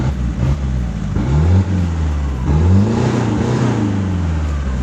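A truck engine revs repeatedly, pitch rising and falling in several swells over a steady idle, recorded close with wind noise.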